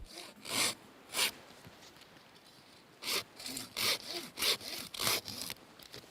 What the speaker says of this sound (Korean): 대나무에 톱질한다